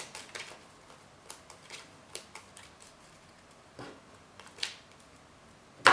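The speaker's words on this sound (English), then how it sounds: "To shuffle." Playing cards for a Lord of the Rings card game are shuffled by hand, giving a series of quiet, crisp riffles and snaps at close range, ending with a sharper clack.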